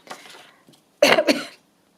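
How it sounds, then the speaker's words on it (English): A person coughs in two bursts: a softer throaty cough followed by a louder, harsher double cough, close and alone with no talking. "Excuse me, I'm still coughing."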